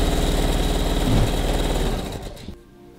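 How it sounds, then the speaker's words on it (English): A sewing machine runs steadily stitching straight lines across fabric, a loud close-up continuous mechanical whir that slows and fades out near the end, with no talking. "I finished sewing straight lines across the top of all my fabric"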